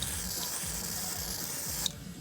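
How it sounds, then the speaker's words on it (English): Carburetor cleaner sprayed onto the carburetor of a STIHL KM90R, a steady close hiss lasting about two seconds before cutting off sharply, with faint rubbing underneath. "carb cleaner"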